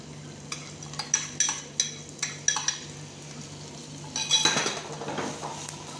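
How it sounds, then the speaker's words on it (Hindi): Cherry tomatoes simmer in tomato sauce in a pan for spaghetti, with a soft steady sizzle and a run of sharp clinks and scrapes from a utensil stirring against the pan, busier toward the end. "अच्छी तरीके से इसको सौते करेंगे."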